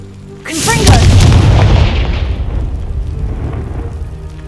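A Confringo spell explosion in Hogwarts Legacy on Xbox Series S: one loud, deep boom that hits suddenly and rumbles on for several seconds as it slowly fades.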